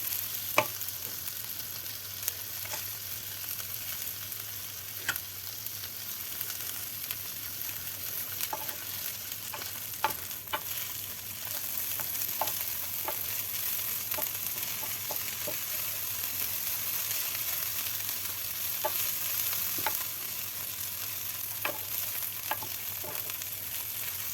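Frozen peas and corn sauté in a pan with a steady low sizzle throughout, broken by scattered sharp clicks and scrapes of stirring, close by and without speech.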